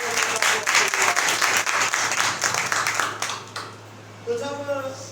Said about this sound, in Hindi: सभी खुश हैं, तो जोरदार तालियां।